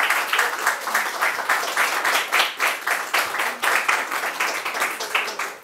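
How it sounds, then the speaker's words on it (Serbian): Audience at a panel discussion applauding the speakers after their answers, a steady dense clapping from a room of people that holds at an even loudness throughout, with no voices over it. "Možemo ih pozdraviti još jednom sa jednim aplauzom da ih počastimo"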